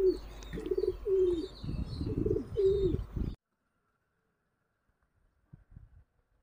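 Pigeons in a loft of five chicks and ten adults give a run of soft, rhythmic, close coos for about three seconds, then fall silent apart from a few faint knocks.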